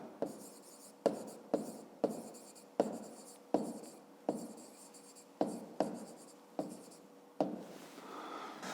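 Pen on paper writes out the answer to a fifth-grade maths problem by hand, a quiet, close series of short scratchy strokes in an uneven rhythm.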